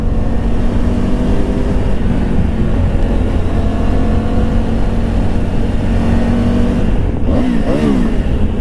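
A 2025 Triumph Tiger Rally Pro motorcycle engine drones steadily with a loud, low throbbing rumble, then revs up with a rising, wavering pitch near the end.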